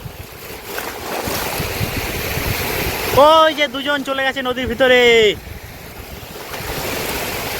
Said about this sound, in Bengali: এই মাতলার পাড়ে বন্ধুরা দেখুন ঢেউ দেখুন একবার প্রচণ্ড ঢেউ